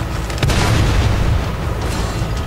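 A heavy tank cannon booms in a World of Tanks battle, one loud, deep blast followed by a rumbling decay.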